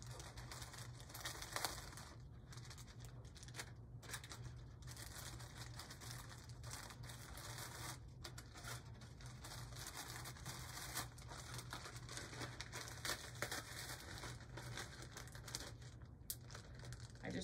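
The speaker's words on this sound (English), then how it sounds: "we're gonna crush up some graham crackers" Graham crackers crushed inside a Ziploc bag, a steady continuous crinkling and crunching of plastic and crumbs close up, with a low hum running underneath the whole time.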